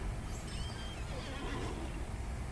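A horse in the online game Lord of the Rings Online, ridden through Angmar, gives a faint whinny that rises and falls, buried in a steady wash of background game ambience.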